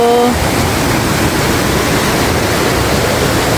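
Steady, loud rushing of water flowing in a stream at a forest camp resort in Valencia near Dumaguete, Philippines, a continuous broadband wash filling the scene with no speech.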